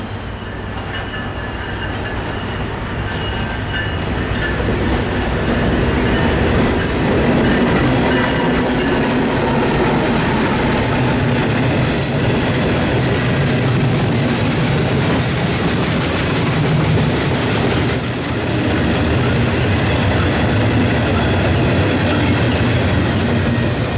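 Norfolk Southern local freight B09, led by low-numbered unit 9760, rumbles past in a long, continuous wash of rail noise with rhythmic wheel clatter and faint squeal, steady and close throughout.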